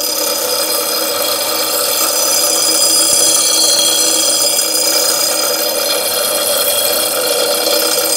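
A lawn mower blade is sharpened on a machine, a loud, continuous grinding with a bright metallic ringing quality, close and steady the whole time.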